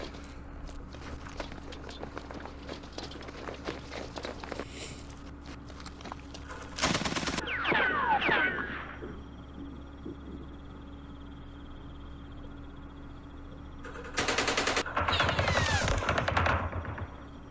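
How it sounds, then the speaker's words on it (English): Airstrikes in the Vietnam war game Campaign Series Vietnam: two loud blasts of rumbling explosions and crackling debris several seconds apart, between stretches of quieter clicking and low background hum. "So this should be a good airstrike turn, I hope."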